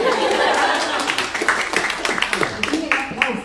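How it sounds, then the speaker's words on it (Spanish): Scattered clapping from a small studio audience during a casual Spanish-language afternoon broadcast, light rippling claps continuing under steady talk and a chuckle. "Tiene aplausos todo el tiempo, me encanta"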